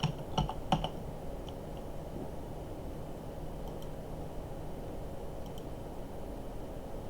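Someone types a short command on a computer keyboard: a quick burst of close keystroke clicks at the start, then a few faint taps over a steady room hum.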